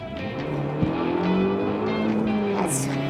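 An Abarth car accelerates through a turn, its engine note rising and shifting in pitch with a brief tire squeal, the engine loud and steady throughout.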